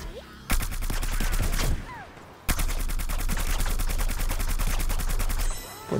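Rapid automatic gunfire in the shooter game Plants vs Zombies Garden Warfare 2 rattles in two long, loud bursts of evenly spaced shots, separated by a short pause, with fainter effects between and no talking.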